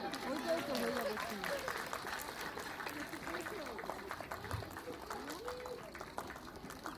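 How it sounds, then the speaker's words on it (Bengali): An audience at an on-stage felicitation ceremony claps steadily, a dense patter of applause running throughout with voices talking over it. "একটু হাততালি থাকুক।"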